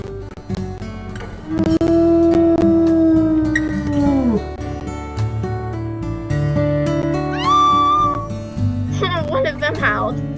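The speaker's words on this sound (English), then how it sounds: "One of them howled." A wolf in the video game WolfQuest 3 gives a long, loud howl with sliding pitch, followed by higher rising yips and howls over game sounds.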